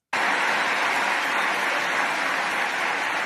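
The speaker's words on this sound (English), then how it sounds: "All the white peoples clapping, standing ovation." A large crowd claps steadily in a continuous, dense wash of applause that fills the space, loud and unbroken from start to finish, with no voices standing out.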